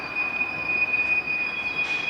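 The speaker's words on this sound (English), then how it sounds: "they'll just slide on down the tracks until they meet with the train they're going to be going to." Freight rail cars roll slowly down the tracks in a Nebraska rail yard, giving a continuous steady rumble of wheels with a sustained high metallic squeal running throughout.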